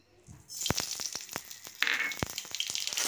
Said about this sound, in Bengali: তেলটা আমার গরম হয়ে গেছিল, ফোড়নটা দিয়ে দিলাম।